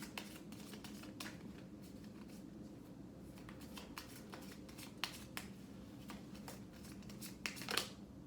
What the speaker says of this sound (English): So let me go ahead and get these cards out.